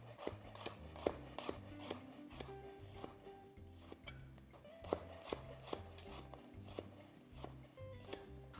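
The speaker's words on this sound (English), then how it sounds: "we're gonna just slice these up. We're not gonna mince it, but we're just gonna slice it. A little bit thinner." A knife slices ingredients thinly for a shrimp pasta, producing a quiet, steady series of crisp cuts and board taps at an even pace, close by with no talking.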